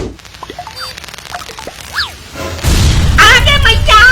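A bomb goes off in someone's hand: after a stretch of chirpy, whistling sound effects comes a sudden loud, sustained blast with vocal sounds mixed over it.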